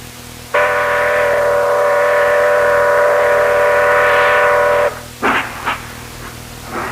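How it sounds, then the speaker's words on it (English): A train's whistle blows one long, loud, steady blast, followed by a few short toots that fade into quieter background noise. "The train's moving."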